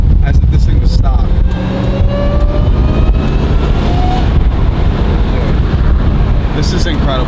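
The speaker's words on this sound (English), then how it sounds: "All you get is now intake supercharger noise as if this thing was stock." Intake and supercharger noise comes from a Dodge Hellcat V8 with its valved exhaust closed: a loud, constant mechanical whine and rumble with rising tonal sweeps, buffeted by wind noise.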